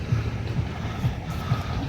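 A boat travelling across Kaptai Lake in Rangamati: a continuous low rumble with gentle rhythmic surging pulses and water wash, steady and close.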